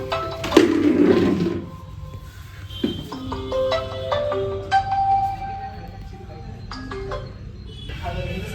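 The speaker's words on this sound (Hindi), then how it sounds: "श्रेया का फोन आया" A phone ringtone plays a series of bright electronic tones in a short melody, with noisy voices and movement at the start.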